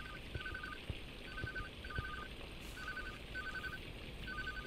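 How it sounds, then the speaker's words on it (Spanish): A mobile phone rings inside a video game, a steady electronic ringtone repeating in short bursts about every half second over a low background hum, with no talk. "a ver, está sonando el móvil"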